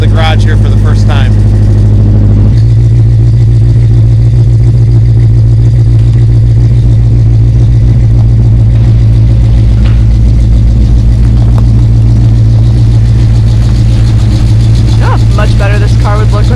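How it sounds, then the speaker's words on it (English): A car fitted with Flowmaster exhausts idles with a deep, steady rumble. Near the start the idle drops to a lower speed, then holds a constant, throaty drone for the rest of the stretch. "like it's got high speed idle and low speed idle, I don't like how high it idles."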